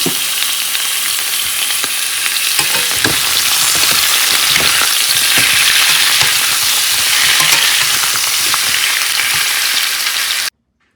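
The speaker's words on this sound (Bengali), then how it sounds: "এখানে আলু আর এই যে ইঁচড়টা ভালো করে ভাজা করে দেবো" Diced green jackfruit and potatoes fry in hot oil with a loud, constant sizzle, and soft stirring clatters come through now and then, with no voices until the sound cuts off abruptly.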